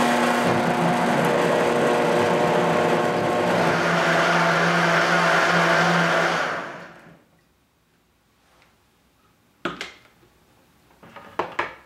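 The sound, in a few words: blender blending hot roasted tomato basil soup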